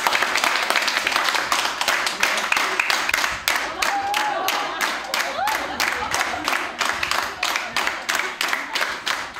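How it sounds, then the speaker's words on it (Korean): Children and adults at a small island school concert clap along in unison at a fast, even tempo, a long run of crisp rhythmic claps with a faint tone underneath. "우리 한번 빠른 템포로 한번 박수 한번 치면서 이 친구 한번 볼까요?"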